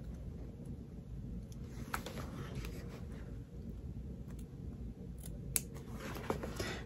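Scissors snip and slide through cutaway stabilizer paper on a zippered fabric bag, a quiet run of close, crisp cutting and rustling noises with occasional sharper clicks and no one talking.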